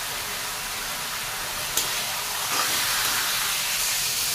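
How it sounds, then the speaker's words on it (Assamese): Sour fish curry with outenga (elephant apple) boiling in an uncovered pot, giving a steady hissing, steamy bubbling wash with a brief soft clink, heard close and alone without talk. "বহুত সময় উতলিবলৈ দিম।"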